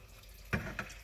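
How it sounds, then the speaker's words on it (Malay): Coconut milk poured into a pan of spicy squid masala as it cooks, a brief liquid splash and trickle followed by a softer second pour, close and fairly quiet. "Sekarang I nak masukkan santan."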